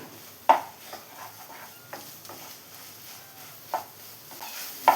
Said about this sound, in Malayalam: ഹൈ ഫ്ലെയിമിൽ വെച്ചിട്ട് നന്നായി തന്നെ മിക്സ് ചെയ്തത് ഡ്രൈ ആക്കി എടുക്കാം.